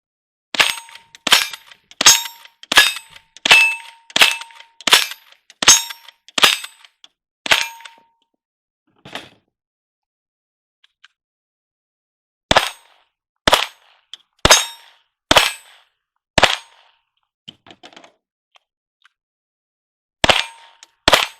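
Sharp cracks from .22 rifles in a Wild Bunch style shooting session, a quick string of about a dozen evenly spaced shots, a long gap with faint clicks from misfires, then a few more shots and a final pair.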